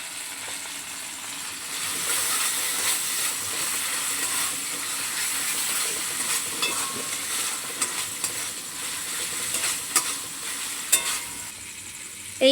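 Chicken sizzles steadily in a hot pan while being stirred for a chowmein dish, a continuous close frying hiss with occasional scraping clicks of the utensil, and no talking.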